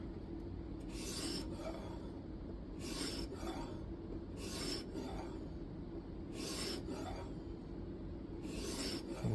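A Kizer Domin knife with N690 steel blade scrapes across a sharpening stone in steady repeated strokes, a close rasping rub with sharper hiss at each pass, about five passes.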